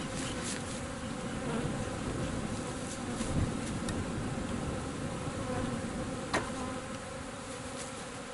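Honeybees from a nuc hive hum in a dense, continuous buzz that stays close and steady throughout, with a few individual bees droning past now and then and no voices.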